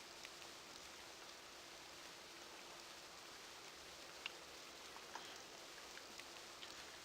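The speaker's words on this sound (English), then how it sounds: "it's raining, obviously." Heavy rain pours steadily in the RealMyst game world, a dense, even hiss of falling water with occasional louder drips standing out against the constant wash.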